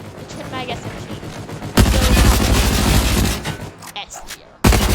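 Twin Mag SMG fire in a video game rattles out in loud, dense bursts, a sustained stream of rapid shots broken by brief pauses, close and forceful.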